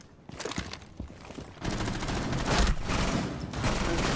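Shotgun blasts from Rainbow Six Siege gameplay, a run of sharp, loud shots over dense in-game noise, growing heavier and more continuous toward the end.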